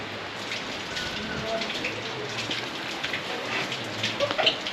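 Water runs from a tap with a steady, close splashing hiss, heard at moderate volume with faint voices in the background.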